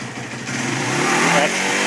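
A Honda CB125S motorcycle engine, running on half choke while failing to stay running, drones close and loud with a slight rising rev.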